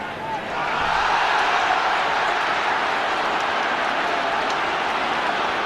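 A stadium crowd at a Gaelic football qualifier between Kerry and Tyrone gives off a broad, steady roar that swells and holds. It stays distant and continuous throughout.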